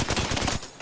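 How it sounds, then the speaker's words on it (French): Dense automatic gunfire in the Apex Legends battle royale game, a loud, rapid, continuous burst of shots that fills most of the moment before briefly dropping off. "On me tire dessus."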